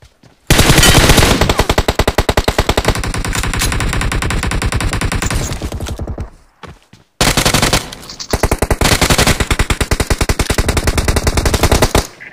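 Automatic gunfire from BGMI cover fire rattles loud and close in two long sustained bursts, broken by a short quiet gap.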